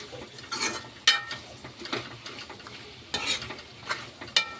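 Vegetable curry stirred in a pan, sizzling steadily with a handful of sharp scrapes and clinks of the spoon against the metal at irregular intervals, close and fairly loud with no talk.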